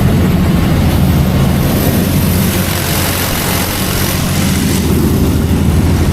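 A 200 kW generator under a load test roars steadily, a loud, deep engine drone with a heavy low-end throb that stays constant and close the whole time.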